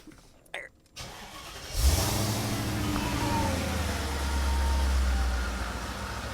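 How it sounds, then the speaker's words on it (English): A Mercedes E55 engine cranks briefly and catches, then settles into a steady, loud idle with a deep low rumble that continues to the end, following a few faint knocks before the start. "But now I'm going to fire up the car, and we're going to see if anything goes different."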